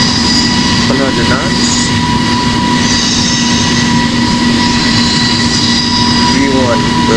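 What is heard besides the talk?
Airbus A350 takeoff roll at TOGA thrust, video game Project Flight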